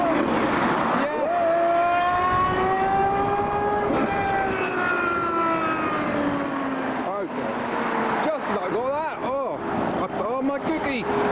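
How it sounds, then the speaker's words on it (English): A Gordon Murray Automotive T50 accelerates away from a car show, its engine note sweeping up through rising gear pulls, then howling in rapid revs at the end, with people talking over it. "That was JK's Gordon Murray automotive car."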